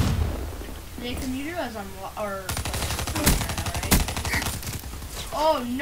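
Rapid automatic gunfire from a video game bursts out in the middle stretch, dense repeated shots with a few louder cracks, sandwiched between stretches of excited talking before and after.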